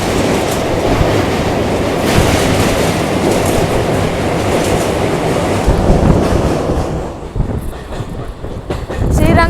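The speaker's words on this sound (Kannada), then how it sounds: "ಬ್ರಿಡ್ಜ್ ಮೇಲೆ ಯಾವ ರೀತಿ ಹೋಗ್ತಾ ಇದೆ ನಮ್ಮ ಟ್ರೈನ್" Rajya Rani express with ICF coaches, train 20660 between Bengaluru and Mysuru, crossing the Kaveri river bridge; a loud, continuous rumble and wheel clatter heard from on board, easing toward the end.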